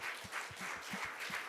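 A church congregation claps their hands together in a rhythmic, roughly even beat, a group applause with the room around it, sustained across the short stretch.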